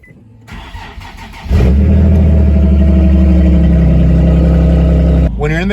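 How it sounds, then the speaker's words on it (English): Nissan 370Z engine cranking and catching after an oil change, then settling into a loud, steady close-up idle; a voice is briefly audible over the idle at the end. "Now we're going to start the car to make sure there is no oil leaks."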